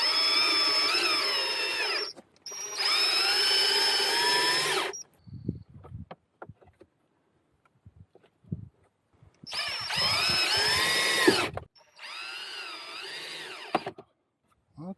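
A power drill drives in screws in four loud whining bursts, two close together near the start and two later, with quiet taps and handling sounds in between.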